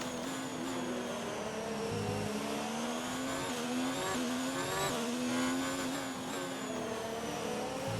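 Formula 1 car engine in a racing video game at the USA round, a steady high-pitched whine that rises and falls through gear changes and turns, loud and continuous throughout with no voices.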